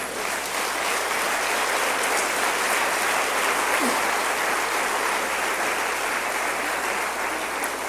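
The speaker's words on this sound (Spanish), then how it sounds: "Eso merece un aplauso para Dios." A church congregation applauds during a sermon, a broad continuous wash of many hands clapping at steady volume throughout, full and evenly sustained with no pause.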